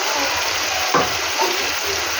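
Oil sizzles steadily in a pan, with a brief metallic scrape and a soft clink as ground green chilli and ginger paste is stirred in.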